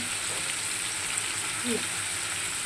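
Spice paste of ground mustard, ginger, white cumin and green chili frying in a pan of oil for a fish curry, a steady, soft broadband sizzle throughout with a faint stir near the end, no talk.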